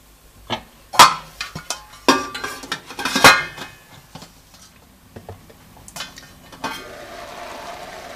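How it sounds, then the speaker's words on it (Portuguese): Metal pot and lid clatter with several sharp knocks, then a steady, soft sizzle of bolognese meat for lasagna cooking settles in under the covered pan. "tampar a panela e deixar a carne uh, esquentar um pouquinho"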